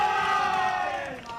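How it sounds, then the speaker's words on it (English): Scottish team supporters cheer loudly at a FootGolf world championship in Acapulco, a sustained crowd roar with raised voices that holds steady and then eases slightly toward the end. "you just heard a bigger cheer from the Scottish team"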